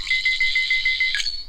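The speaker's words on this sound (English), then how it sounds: "I like the beep at the end" A toy sonic screwdriver gives a steady high electronic tone with a faint rapid pulse through its scanning sound, then rises briefly into a short, brighter beep as it finishes, loud and close with no talk.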